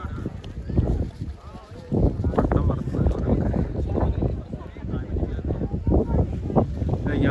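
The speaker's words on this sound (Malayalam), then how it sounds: "നല്ല കാറ്റുണ്ട്" Strong wind buffets the microphone on Parangodan rock at Edavanna, a loud continuous rumbling gust beneath people talking nearby.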